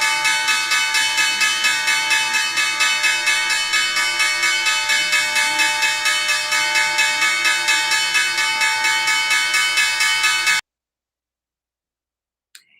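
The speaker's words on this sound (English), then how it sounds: "it looks like we have the opening bell here in just a few seconds" The New York Stock Exchange opening bell rings loudly on the trading floor, a rapid, evenly spaced clanging for about ten seconds before stopping abruptly into silence.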